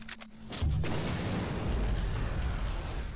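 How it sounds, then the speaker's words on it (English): An explosion in the video game System Shock 2 opens with a sharp blast and rolls into a loud, sustained rumbling roar lasting several seconds. "What the heck is that explosion"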